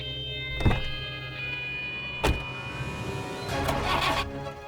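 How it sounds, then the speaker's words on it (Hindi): A jeep's engine starts with a couple of sharp thunks and then runs steadily before pulling away, heard fairly faintly with no talking. "अथर्व मल्हार की गाड़ी लेके कहाँ जा रहा है?"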